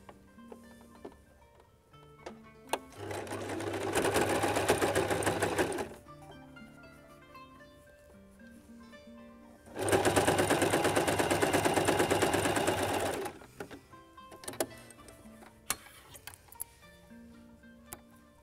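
A sewing machine stitches quilt patches together in two long, steady runs of rapid mechanical chatter, each lasting a few seconds. Quiet clicks and fabric handling come between and after the runs.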